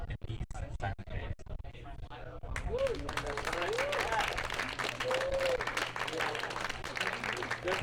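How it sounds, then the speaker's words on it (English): Open mic audience at a poetry festival bursts into applause after a poem: scattered claps at first, then dense sustained clapping from the crowd, with a few voices and whoops mixed in. "If you like a poem, clap for the poem!"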